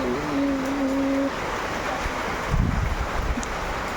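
Rain and gusting wind sweep past outside a house during a storm, a continuous broad rush with a brief tonal hum at the start and a few dull low thumps midway.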